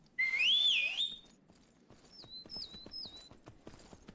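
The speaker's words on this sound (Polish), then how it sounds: "Konia można też przywołać do siebie z niezbyt wielkiej odległości, gwiżdżąc za pomocą klawisza U." A rising whistle blown to summon a horse in the game Myth of Empires, loud and clear, followed by quieter repeated whistle chirps and soft clopping hooves.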